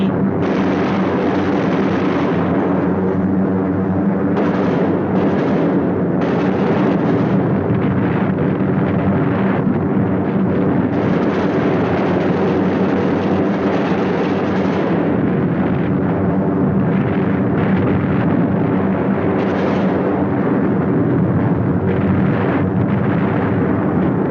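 Bombs released from a WWII bomber over Europe burst in a continuous heavy rumbling roar, dense and loud, with booming blasts blending into sustained engine and wind noise.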